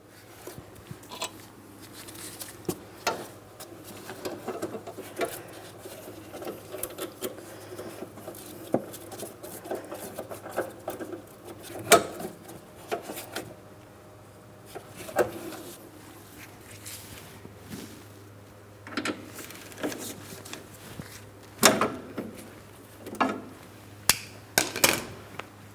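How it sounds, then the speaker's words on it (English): A tool works on the inner tie rod of a 2003-2007 Cadillac CTS power steering rack, giving scattered metallic clicks, taps and scraping knocks close up over a low steady hum. "We'll be turning this counterclockwise to unscrew it from the power steering rack."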